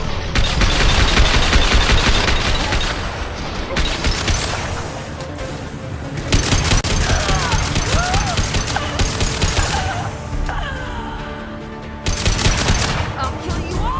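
Rapid video game gunfire rings out in dense bursts and volleys across the whole stretch, loud and close, with brief lulls between flurries and a game character's voice shouting over the shots.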